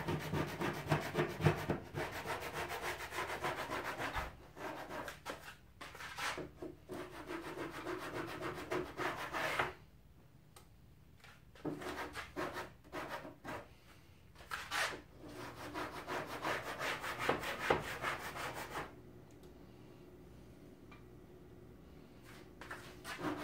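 A hand scraper peels old paint off a wooden arcade cabinet in repeated rasping strokes, loud bursts separated by short pauses, with a quieter stretch near the end.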